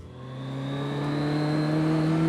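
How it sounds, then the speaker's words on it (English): A car on a road near Seattle drives past, its engine hum rising steadily and growing louder as it approaches, a smooth tonal drone with no talking. "This car drove by"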